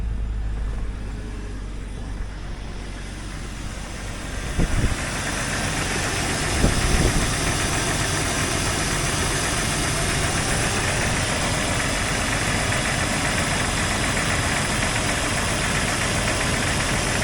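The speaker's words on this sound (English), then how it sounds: "Yeah, I think that's a broken piston skirt." An engine with a broken piston skirt runs steadily with a rough, repetitive knocking mixed into its drone, holding constant throughout, with a couple of brief clunks early on.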